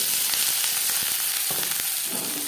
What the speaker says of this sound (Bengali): তিন চামচ রিফাইন্ড অয়েল তৈরি করে নিয়েছি এবার দিয়ে দেবো পেঁয়াজ